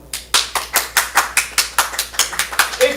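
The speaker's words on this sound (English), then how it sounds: "Applaud now." At a comedy improv league show, audience members clap in a steady, rhythmic run of about a dozen sharp, evenly spaced claps that carry on for several seconds.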